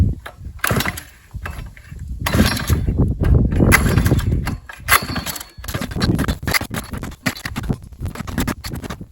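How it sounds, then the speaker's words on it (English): Someone yanks the small pull cord on a gas-powered ice auger several times, each pull a quick scratchy rasp of cord and recoil, close up, with the engine never catching. "A small pull cord."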